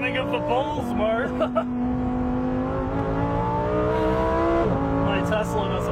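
V10 sports car engine revving hard through tightly spaced gears, a loud, close wail climbing in pitch with quick shifts and a dip near the end, with people talking over it.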